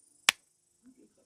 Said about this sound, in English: at the top, we're going to give a big clap on the count of 3